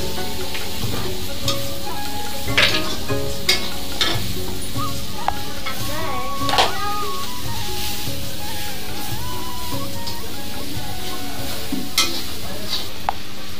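Macaroni frying in a pan with onion and turmeric, stirred throughout: a steady, close sizzle with intermittent scrapes and clinks of the spoon against the pan over about fourteen seconds, without speech.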